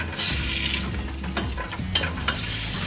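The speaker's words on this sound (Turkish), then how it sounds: "1-2 dakika kavrulmaya bırakıyorum" Garlic, with potatoes and onions, sautéing in a pan for a chicken stew: a close, loud, continuous sizzle and frying hiss broken by scraping stir strokes, with no voices.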